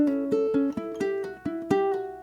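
A ukulele plucks the first two bars of Scarborough Fair in a steady, even rhythm, close and clear with no talking.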